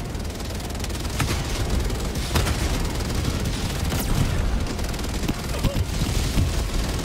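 Explosions and gunfire ring out in a Helldivers 2 battle, with loud dense blasts and rapid shots rolling continuously under frantic talk.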